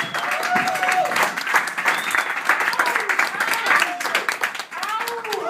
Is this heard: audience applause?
yes